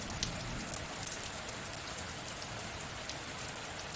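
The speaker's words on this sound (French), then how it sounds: "Laisse-toi voyager par le bruit de la pluie" Steady rain falls in a dense, even hiss, with scattered drops pattering on a surface; no voices.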